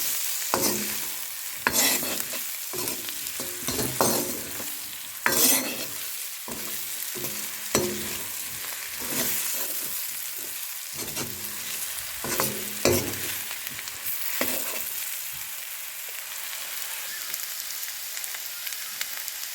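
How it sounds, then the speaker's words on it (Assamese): Steady sizzling of spices frying in a pan with repeated scraping and stirring strokes throughout, close and fairly loud, no voices. "এতিয়া মছলাখিনি ধুনীয়াকৈ মিলিবৰ কাৰণে ভাজি দিম"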